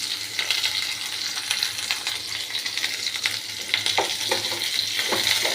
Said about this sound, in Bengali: দিয়ে এটাকে ভালো করে যেরকম ভাজতে হয় সেরকম ভাজবো।